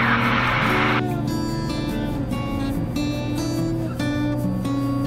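A Cessna 182T engine roaring at full power on the takeoff roll, a loud steady propeller drone with a sharp burst of noise at the start that settles into a constant tonal hum.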